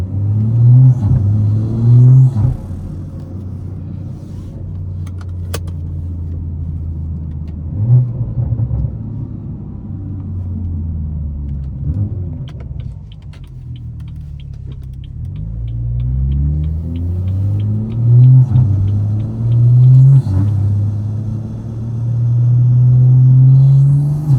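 A BMW 340i running on race gas revs hard under acceleration, its deep engine note rising and falling through several surges, with steady road rumble underneath and no talking.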